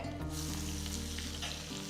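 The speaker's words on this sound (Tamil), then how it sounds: "சின்ன வெங்காயம் நல்லா பொடியாக நறுக்கி இதில் போடுறேன்" Finely chopped small shallots with cumin seeds and a pinch of asafoetida hissing in hot oil, a close, steady crackling sizzle with no voices over it.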